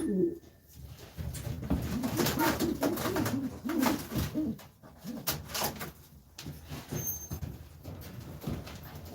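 Pigeons in a breeder's loft coo in repeated soft, throaty bursts, fairly close, with a few other small knocks and rustles around them.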